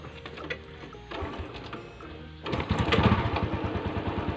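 A Honda Dream motorcycle being started: mechanical clicking and cranking at first, then the small engine catches and settles into a fast, steady idle putter, close by.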